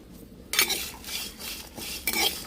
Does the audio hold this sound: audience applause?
no